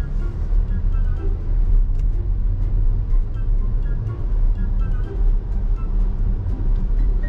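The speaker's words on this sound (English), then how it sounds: "Why don't you give it a little bit of gas?" A boosted Jeep engine runs with a steady low rumble, given a little gas in a residential development, heard close and continuous with no sharp rev peaks.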